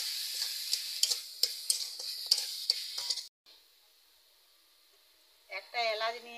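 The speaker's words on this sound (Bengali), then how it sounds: "নারকেলটা এবার ভেজে দিচ্ছি" Grated coconut with sugar frying in a pan gives a bright sizzle with sharp stirring clicks for a few seconds, then near silence, and a voice speaks at the end.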